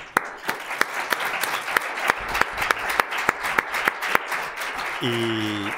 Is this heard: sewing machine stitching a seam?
no